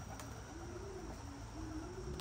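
Soft, low cooing from young racing pigeons around their loft, a few gentle repeated coos over a steady hum and faint background noise.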